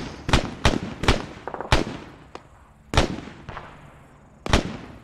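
Several 40mm grenade launcher rounds fired in the military game ArmA 3, a series of sharp, booming reports at irregular intervals with short echoing tails, moderately loud and not overlapped by speech.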